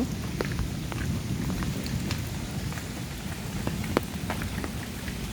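Steady rain falls on a wet village road in Bangladesh, a dense close patter with scattered louder drops throughout and no talking.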